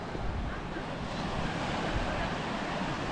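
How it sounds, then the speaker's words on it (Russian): Black Sea surf at the shore in Novomikhailovsky, a steady broadband wash of slightly choppy waves with wind rumble on the microphone, continuous and fairly close throughout. "Море чуть волнуется."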